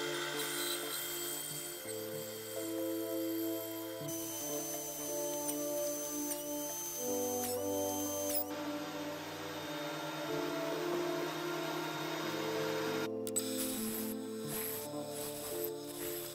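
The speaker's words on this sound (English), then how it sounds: "I'm going to cut that off through the bandsaw, run that side through the planer" A steady, continuous machine whine and hum, with a shift partway through, fits a bandsaw cutting a wax-covered lignum vitae bowl blank followed by a planer running, loud and unbroken with no talking.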